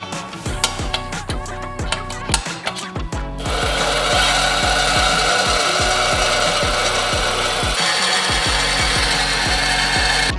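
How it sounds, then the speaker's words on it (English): Power-driven self-tapping screws biting into pilot holes in an Evo 8 valve cover, a close, loud mechanical whir with rhythmic clicking that swells into a sustained, steady grinding drone. "I just drilled pilot holes in each one of these holes and then ran these down in there to create the threads"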